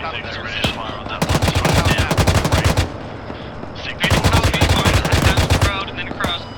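Bursts of machine gun fire in a military video game, two long rapid rattling volleys that are loud and close, with radio chatter faint underneath.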